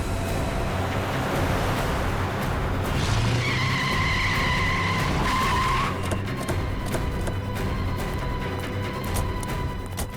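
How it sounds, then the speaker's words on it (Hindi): A car races at speed during a chase, engine roar and road noise running steadily with a stretch of squealing tires midway, loud and close, with no talking. "टीना पमेला जी से जानबूझ के गाड़ी तेज चलवा रही है"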